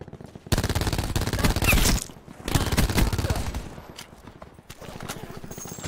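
Rapid automatic gunfire from a video game shooter, sustained rattling bursts separated by short pauses, close and loud with a busy game mix around it.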